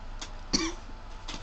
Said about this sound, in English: Hold on, I'm about to have a coughing fit.